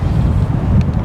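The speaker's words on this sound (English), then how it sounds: "Very windy." Wind buffets the microphone outdoors during a pre-race interview for the Western States 100 trail ultramarathon, a steady, loud low rumble with gusty swells throughout.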